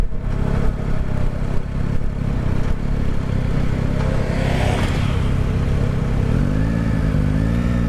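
A Yamaha Tracer 9 engine running steadily while the motorcycle is ridden, a continuous mid-pitched drone with wind rush and a brief rising whine partway through.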